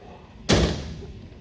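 A solid heavy-duty lockable door on a wheeled storage cabinet shuts with one sharp, close slam, followed by a short decaying rumble.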